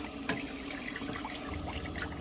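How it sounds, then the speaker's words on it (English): Water gushes steadily from a freshly opened tap in a Swift Select 164 caravan, a close, continuous splashing flow into the sink. "you'll be able to open the tap"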